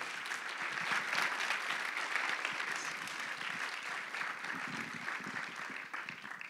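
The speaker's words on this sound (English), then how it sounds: "More round of applause," An audience at an awards celebration bursts into sustained applause, a dense patter of many hands clapping steadily and loud throughout, tapering slightly at the end.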